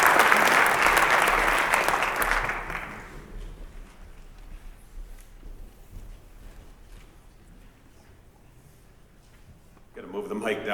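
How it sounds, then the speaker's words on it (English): Audience applause at a school shark-tank style pitch event, loud and full for the first couple of seconds, then fading to a quiet room murmur before a voice starts near the end. "If we can give him a round of applause."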